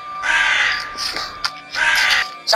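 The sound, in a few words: bird calling, crow-like caw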